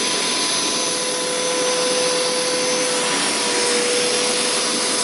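A Hoover Power Scrub Deluxe carpet cleaner runs steadily on a couch, giving a loud, continuous motor whine with a constant pitch and broadband whoosh throughout, and no voices.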